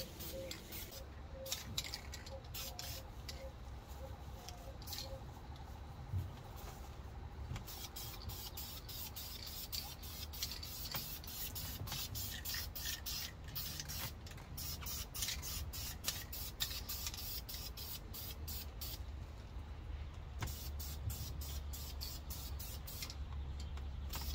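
Spray paint applied as a first coat to car headers during a J-swap Honda Civic build: a continuous airy hiss with repeated short bursts and pauses, close to the microphone, with no talking.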